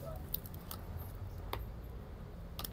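Faint crinkles and sharp ticks of a plastic package being opened on a new 7-Eleven Biscoff cake, several short snaps spaced out over a low background rumble.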